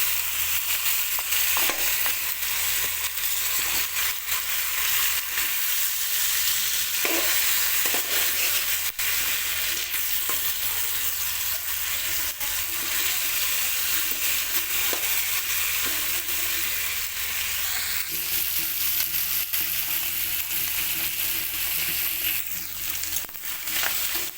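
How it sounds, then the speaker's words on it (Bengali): Continuous loud sizzling and crackling of a fish head frying in hot oil, with occasional stirring scrapes and no voices. "মাছের মাথাটা ভালো করে ভেজে নেবো"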